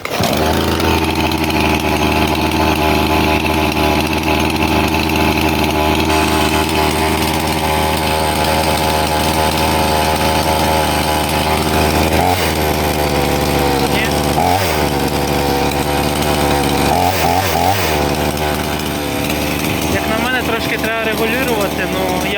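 Petrol chainsaw running loud and close while cutting firewood, its engine droning steadily with several brief revving surges, and a voice speaking occasionally over it.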